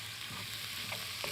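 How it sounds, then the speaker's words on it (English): Curry powder, turmeric and frozen edamame sauté in a hot pan, giving a steady close sizzle with a few soft stirring scrapes, brief and without talk. "I'm just going to add the curry powder Nice. and the turmeric. Saute it quickly, and the edamame."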